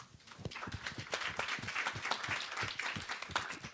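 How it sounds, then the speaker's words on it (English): Conference audience applause at a social enterprise event, dense continuous clapping from a room of people throughout. "That does deserve a round of applause."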